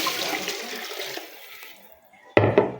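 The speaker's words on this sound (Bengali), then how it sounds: "এর সাথে পরিমাণ মতো পানি অ্যাড করে দেব" Water poured into a pot of frying biryani rice, a steady splashing pour that fades out, followed by two sharp clanks of utensils on the pot.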